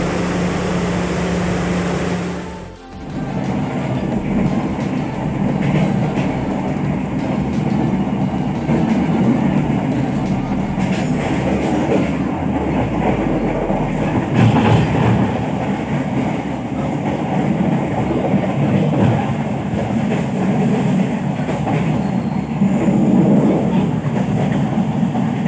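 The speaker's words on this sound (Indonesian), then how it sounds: "kereta yang aku naikin udah nyampe di stasiun Cipendei" A passenger train on the Kutojaya Selatan route in Indonesia runs on rails with continuous low rumbling and rhythmic clatter, steady and fairly loud throughout, with no voices.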